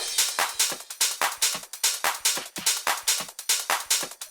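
Modern trance drum groove built around a punchy 909-style clap, with crisp hats and percussion hits repeating in a tight, steady rhythm, loud and alone with no kick underneath.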